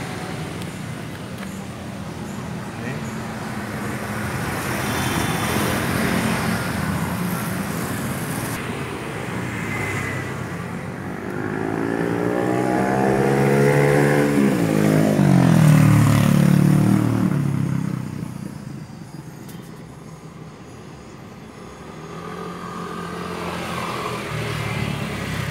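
A 2013 KIA Sportage with a 2.0L engine fitted with an HHO and EFIE fuel saver idles steadily at the exhaust, a low continuous rumble with a swelling rise partway through, heard close up without talk.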